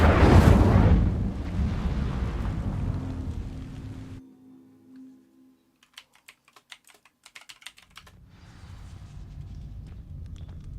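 A fire spell cast in Hogwarts Legacy on PS5: a loud whooshing, roaring blast for about four seconds. It cuts to near silence, then come a few scattered faint clicks and a soft low rumble.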